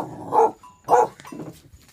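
A dog barking at a house in a remote rural border area, two loud close barks spaced about half a second apart, followed by softer yips and whimpers.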